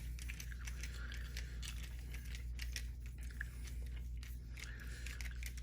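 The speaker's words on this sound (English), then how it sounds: "Sorry for the gum smacking." Quiet, close gum smacking from someone chewing while working on a Rovan or HPI Baja steering unit, as a steady run of small wet clicks and crunches over faint background hum.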